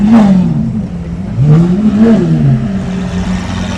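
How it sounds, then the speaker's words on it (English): A white-on-white Lamborghini Aventador arriving at a crowded neighbourhood car meet, its engine revving loudly in rising and falling surges with a rough mechanical whir between blips. "Tommy has turned up in his colour-coded, white-on-white Lamborghini Aventador."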